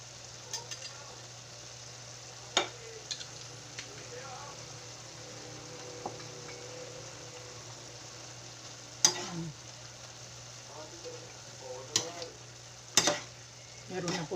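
Chopped vegetables with chicken liver and pork sautéing in a pan, pechay and cabbage in oyster sauce, give a steady low sizzle throughout, with occasional sharp clinks and stirring scrapes rising above it.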